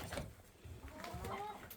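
Chickens clucking inside a homestead chicken house, a steady run of soft, overlapping clucks and calls close by over a continuous low rustling background, with no talk.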